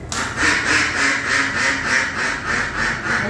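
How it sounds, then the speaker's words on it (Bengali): Ducks quack repeatedly in a fast, steady rhythm, loud and close, a continuous run of nasal calls with little else around. "এই হাঁস কয়বার খাবার দেবো?"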